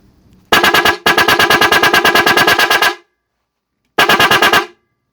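A loud, buzzing horn blares in three blasts: a short one, a long sustained honk, then a brief final toot, close and harsh. A modified domestic car horn with adjusted points and coil winding.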